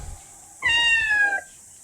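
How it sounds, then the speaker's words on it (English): A single clear, close cat meow lasting under a second in the video game OFF, set against otherwise quiet surroundings. "I am meowing at the top of my lungs, pretending the echoes belong to someone I used to know."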